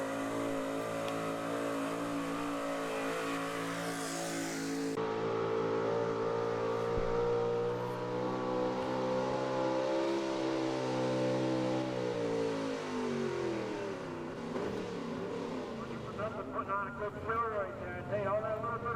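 A small block high output pulling truck's engine roars and revs hard at a truck and tractor pull, a sustained loud drone that climbs and falls in pitch, with an announcer talking over it.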